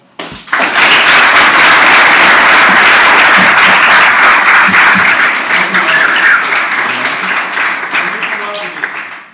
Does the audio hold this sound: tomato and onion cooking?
no